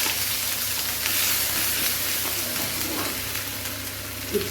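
Two green chilies and a little ginger drop into already heated oil and sizzle with a constant, even hiss that stays moderately loud throughout, with faint crackles and no talking.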